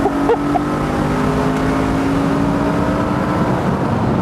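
A BMW E92 M3 with its 4-litre V8 revs loud and close, a continuous rich engine drone with steady harmonic tones throughout.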